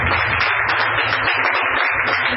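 A church congregation claps in a dense, steady burst of applause that fills the whole moment, loud and close with no voices over it.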